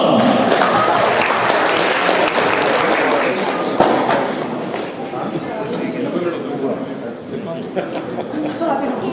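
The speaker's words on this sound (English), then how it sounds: "A big round of applause for Ayush and Shivam" Audience applause for two young presenters at a Hindu New Year celebration at Saratoga Hindu Temple, a dense, sustained wash of clapping that carries steadily through the whole stretch, with crowd chatter and voices mixed underneath.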